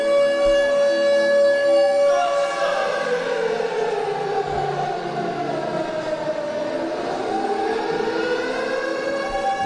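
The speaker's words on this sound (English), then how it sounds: "Oh, we know what that siren means." A loud wailing wrestling entrance siren rises and falls in long sweeping tones at a charity wrestling event, dominating the scene with no talking.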